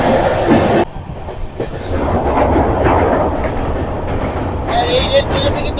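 The Sairang Kolkata Express runs along the Sairang–Bairabi line through Mizoram's bridges and tunnels, with a steady, loud rolling rumble and clatter. A short dip comes near the start, and brighter rattling rises toward the end.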